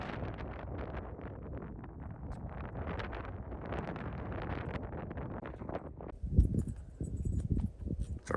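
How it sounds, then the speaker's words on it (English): A strong wind of about 20 to 30 mph blows steadily across an open camp in the desert valley, roaring and buffeting the microphone with continuous rough noise. Gusts and a few knocks follow near the end. "Today the winds are blowing."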